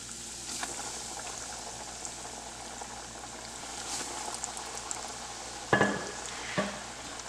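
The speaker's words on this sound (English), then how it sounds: "we're going to cook our fish. So we have 2 pieces here." Two fish pieces frying in hot oil for a Southern-style fish and grits dish, giving a steady soft sizzle and bubbling with a couple of sharper clatters of utensils or pan near the end.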